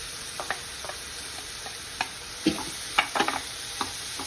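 Ridge gourd frying in hot oil in a pan, a steady low sizzle under scattered clicks and taps of a spoon stirring, close by with no voices.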